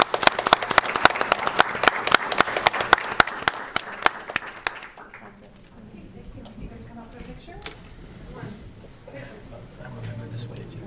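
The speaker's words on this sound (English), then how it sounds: "So let's give our parents a round of applause." At a school board meeting, an audience claps for the students' parents, sharp close handclaps rattling for several seconds before fading out, followed by a quieter room where people speak.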